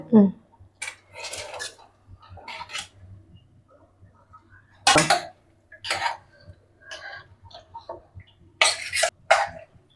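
Metal spoon scraping and clinking against a pot of mutton curry with ground coconut in short bursts, close by, with quiet pauses between strokes.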